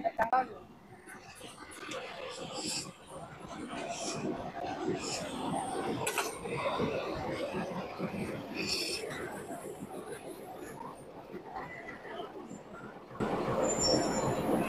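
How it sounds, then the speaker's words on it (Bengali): A local train pulls into a historic rural railway station, its wheels rumbling and squealing on the rails for a long, steady stretch. Someone talks over the noise. "আমরা দেখলাম এই যে একটা ট্রেন চলে এসছে"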